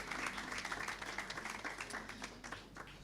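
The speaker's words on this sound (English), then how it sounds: "give everybody a big round of applause for the support that they've given to you" Audience at a nursing graduation ceremony bursts into a big round of applause, dense overlapping claps sustained throughout with faint crowd murmur beneath.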